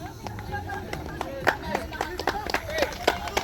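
Scattered claps ring out from an audience at a basketball league opening at Qatif Center, Quiapo. The clapping is irregular and moderately loud, mixed with voices talking.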